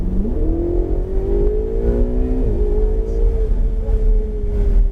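A Ferrari 488 GTB pulls hard at full throttle on a track, its engine note climbing steadily in pitch with a brief dip at a shift, loud and continuous under cabin rumble.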